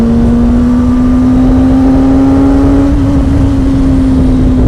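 A car engine revving hard as the driver accelerates, a loud sustained drone with a clear rising tone held steadily for several seconds, no voices.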